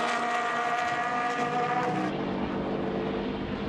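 GT1 race cars, including a BMW, roaring past on a circuit's back straight, a loud sustained engine drone that shifts in pitch as the cars pass and recede.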